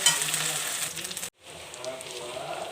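Ginger, garlic and cumin paste sizzling in hot oil while being stirred, a steady close frying hiss with light scraping that cuts out briefly midway, then resumes more softly.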